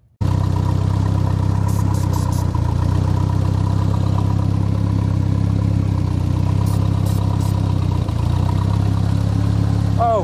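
Nissan S12 200SX engine idling, a steady close-up mechanical drone with light clatter running evenly throughout, no voices over it.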